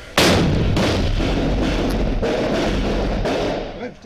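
A grenade explosion during a raid: a sudden heavy boom followed by a loud, sustained roaring rumble that lasts several seconds before tapering off.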